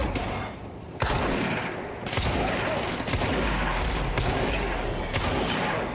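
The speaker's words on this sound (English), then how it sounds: "This shotgun thingy certainly has a kick, huh?" Shotgun firing in the video game Control, several heavy blasts spread over a few seconds amid dense gunfire and combat noise, loud and close with no talk.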